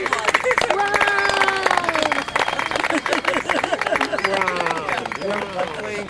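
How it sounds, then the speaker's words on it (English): Audience applause at a poetry show runs for several seconds as lively, close clapping, with excited voices and cheering mixed in throughout. "We have a big round of applause for Janet Kuypers."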